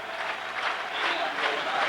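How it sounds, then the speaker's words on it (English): Stadium crowd at a 1989 Denmark v England football friendly applauds as a record-holding goalkeeper leaves the field, a steady wash of clapping and cheering heard from a distance. "And the record man leaves the field to great applause."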